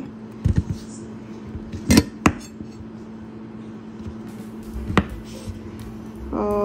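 A knife cutting a halal chicken sausage in two on a kitchen board, a few close, sharp knocks and clinks of the blade against the board, separated by quiet pauses with a low steady hum.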